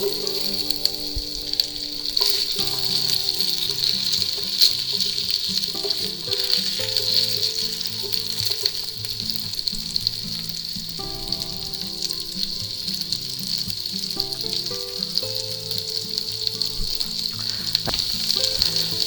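Diced potatoes frying in hot bacon grease for home fries, a steady close sizzle and crackle throughout, with faint stirring and no talking.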